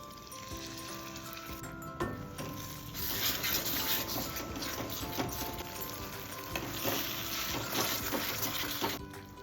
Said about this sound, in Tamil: இப்போ இந்த மிக்ஸி ஜாரில் இருக்க தண்ணியை சேர்த்துக்கலாம்.